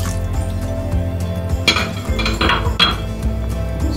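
A utensil clinks and scrapes against a bowl while egg roll batter with milk and vanilla is mixed, a run of close, irregular metallic taps and knocks, growing busier near the middle, with no one speaking.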